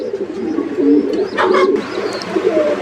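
Pigeon in cage number 32 of an outdoor loft, a finely marked bird, coos softly against steady background noise; a brief brighter call rises near the middle, with faint chirps from other birds.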